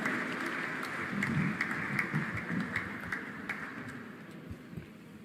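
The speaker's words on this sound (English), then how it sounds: "Please welcome with a round of applause Swami Samarpanananda ji" A modest audience at a talk at MIT, Pune gives a round of applause welcoming a swami to speak, soft steady clapping from a moderate-sized room that gradually thins and fades toward the end.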